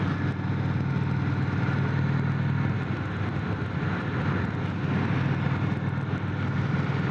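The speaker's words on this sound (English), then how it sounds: "So this engine's not really spinning at all, getting up to speed." An Indian Springfield Dark Horse 116 motorcycle cruising in sixth gear at low, relaxed engine speed, giving a steady, even drone with a low hum and wind rush throughout, loud and continuous with no talking.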